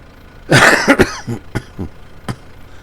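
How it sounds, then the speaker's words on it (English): A burst of harsh coughing up close, three or four rough hacks followed by a couple of softer throat-clearing coughs. "Pardon me for coughing on you."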